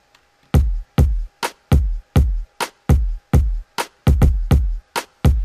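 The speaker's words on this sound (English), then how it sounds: "So you can hear the variation going on with the kick drum." A punchy drum-machine kick drum thumps in a steady dancehall pattern, about a dozen hits with slight variation in spacing, loud and dry with no other instruments.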